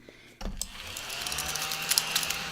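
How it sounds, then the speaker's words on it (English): Small desk vacuum switches on abruptly and keeps running with a close whirring, rattling motor hum and scattered clicks as it moves across a crafting desk. "how happy this silly little desk vacuum makes me"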